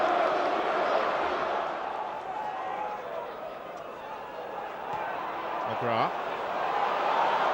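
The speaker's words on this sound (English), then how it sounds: "More animation about the Villa Park crowd now" The Villa Park football crowd at Aston Villa versus Swindon Town roars and chants steadily in a large stadium, a broad continuous wash of noise under a commentator's voice.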